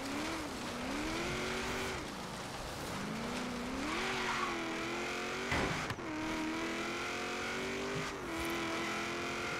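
A Subaru in the racing game Forza Horizon 3 revs and drives, its engine pitch rising and falling through repeated gear changes, with tire squeal and a brief thump midway, loud and close throughout.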